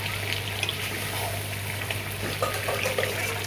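Chicken kosha cooking down in a ground masala paste with melon seeds and sesame, giving a steady close sizzle and bubbling fry over a low constant hum, with faint stirring scrapes toward the end.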